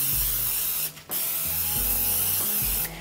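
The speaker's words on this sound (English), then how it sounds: "I'm going to get my pans, just 2 loaf pans, and I'm going to spray them really well" Cooking spray hisses onto two loaf pans for coconut banana bread. The long, loud, close bursts stop for two short pauses.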